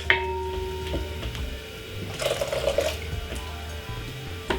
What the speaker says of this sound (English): We're gonna add 1 cup of hot water to it